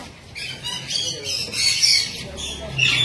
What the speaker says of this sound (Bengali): এটা হচ্ছে কাকাতুয়া